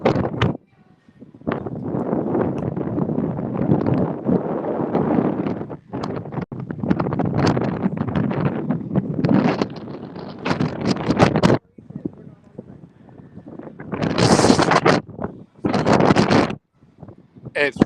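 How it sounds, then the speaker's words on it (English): Strong wind buffets the microphone in heavy gusts on the deck of the cruise ship Symphony of the Seas, with someone talking intermittently through the roar. "It's gonna get real windy."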